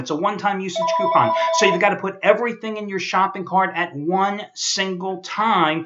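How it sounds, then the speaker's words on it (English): A Verizon phone ringtone plays a brief tonal chime in the background, partly masked by someone talking steadily and close by. "is that not an annoying Verizon ringtone"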